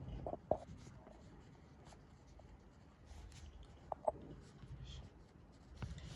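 Writing on a board during a classroom lecture, with short scratching strokes and a few sharper taps against a low room murmur.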